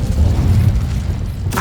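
A fire spell effect from a magic-themed video game sounds as a deep, booming rumble lasting under two seconds, ending in a brief brighter crackling burst.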